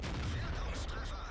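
A heavy tank's cannon fires in the World of Tanks game during a Heavy Metal battle involving a 110 and a Tiger II. It makes a dense, loud, rumbling blast that fills the whole short moment.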